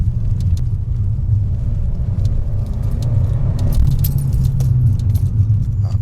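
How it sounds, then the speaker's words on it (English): An Abarth 595 Competizione, a small front-wheel-drive hatchback, gives a deep, raspy exhaust rumble while driving, heard steadily from inside the cabin with faint light rattles on top. "listen to that raspiness of that exhaust."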